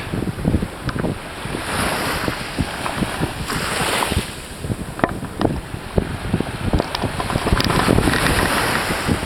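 Surf rolls and breaks along Kahala Beach on Oahu, Hawaii, loud and close, with strong wind buffeting the microphone throughout and no talking.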